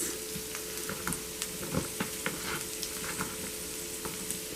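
Peppers, onion and carrots frying in a pan, a steady soft sizzle with occasional stirring clinks and scrapes, close and continuous without talk.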